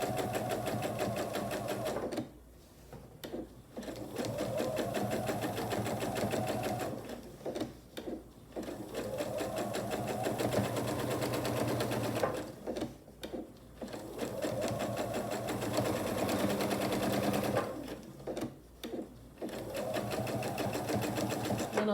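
A sewing machine runs straight-line quilting across a vinyl pouch in long, steady, close bursts of rapid stitching, broken by short pauses as the fabric is smoothed and repositioned.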